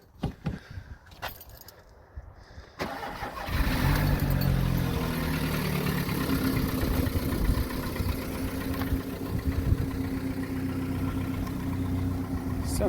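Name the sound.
VW Golf Mk4 engine idling with new exhaust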